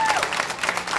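An audience claps for a class of novice showmen at a farm show, a dense patter of hands over a murmuring crowd, with whistle-like tones drifting through at the start.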